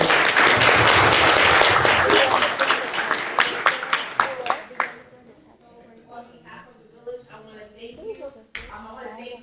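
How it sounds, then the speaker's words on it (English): Applause from a Student Government Day audience, full and steady for about five seconds before fading to scattered claps, with a brief voice or two after it. "Let's give Angela a round of applause."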